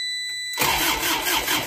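An Isuzu Elf truck with a starting fault cranks and catches after a short quiet pause, its diesel engine settling into a loud, steady idle with a broadband rumble close to the microphone.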